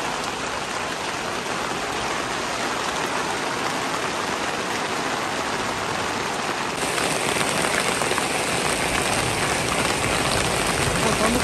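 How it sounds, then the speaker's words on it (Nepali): Heavy rain pounds down during a mountain hailstorm, a dense, steady roar that grows slightly louder partway through and continues without a break. "यत्रो पानी पर्यो।"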